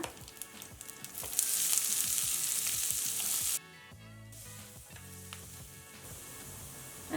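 Finely chopped large onion hits hot oil with curry leaves for kharabath upma, bursting into a loud, bright sizzle after about a second, then settling into quieter frying with stirring scrapes.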